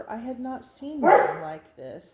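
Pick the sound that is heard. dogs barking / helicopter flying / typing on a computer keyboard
dogs barking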